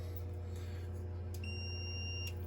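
A multimeter gives one short, steady continuity beep during a no-heat service call on a Burnham Alpine boiler with radiant heating. The beep sounds about halfway through, over a constant low electrical hum.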